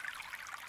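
A faint, steady trickle of water running in a river's middle course, a thin continuous dribble with no voices over it.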